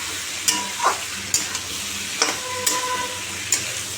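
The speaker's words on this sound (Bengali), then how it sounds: "এবার লাউ আর পেঁপেগুলো দিয়ে দেবো ভালো করে সাঁতলাবো" Bottle gourd and papaya sauté in a pan with a soft frying hiss, broken by several sharp clinks and scrapes of a spatula against the pan at irregular intervals, close and fairly quiet with no talking.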